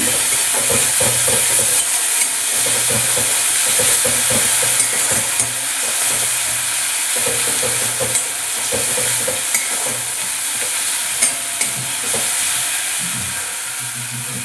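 Cumin paste sizzling in hot oil for a fish head curry, a steady loud frying hiss with bubbling crackle and occasional stirring scrapes, no talking.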